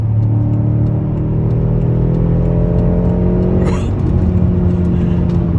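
BMW M6 engine accelerating from inside the car, a loud, steady mid-range drone with rising harmonic tones and continuous road rumble throughout.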